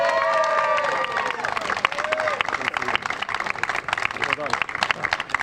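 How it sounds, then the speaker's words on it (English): A crowd at a motor racing trophy presentation at Oulton Park claps and cheers steadily, with whistles rising above the dense applause, which carries on at a lively, even level throughout. "That was a good round of applause, wasn't it?"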